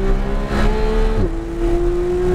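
Supercar on a race track accelerating hard out of a slow corner, a loud steady engine drone rising in pitch, dipping briefly at a gear change, then pulling on strongly.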